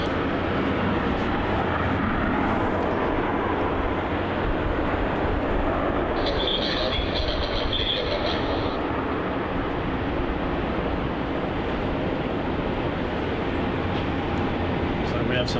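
A Qantas Boeing 737 arriving from Adelaide taxis off runway 16 at Melbourne Airport, heard as a steady, loud broadband jet roar that fills the whole clip, with a brief higher whine rising in the middle and no clear voices.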